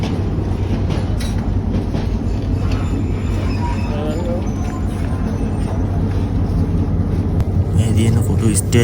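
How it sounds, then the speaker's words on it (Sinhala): A Colombo-bound train rolls along the rails in Sri Lanka with a steady rumble and rhythmic clatter of wheels, heard close and loud from on board, while people talk over it. "60 එකෙන් කොළඹ කෝච්චිය ආවා"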